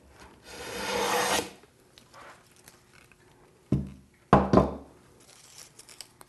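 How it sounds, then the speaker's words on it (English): A hand plane pushed against the grain of a wood board, giving a long rasping shave followed by a couple of shorter scraping strokes with pauses between, close and fairly loud. "Alright, I'll turn it around again so that we're going against the grain and see how it does."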